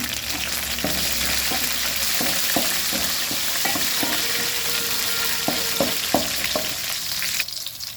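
Garlic and curry leaves fry in a pan with a steady, moderate sizzle, while a spoon taps and scrapes the pan in irregular strokes.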